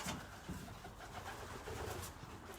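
A racing pigeon coos softly at a race loft, a faint low murmur repeating a few times against quiet background noise.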